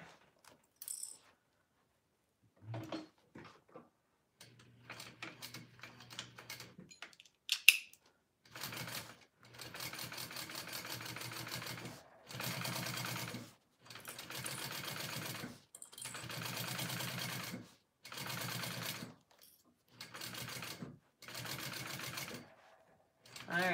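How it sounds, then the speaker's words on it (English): A sewing machine stitches the exterior pieces of a tote bag in a series of short, fairly quiet whirring runs with brief pauses, plus some earlier clinks and handling noises. "And again, I'm only sewing my exteriors right now."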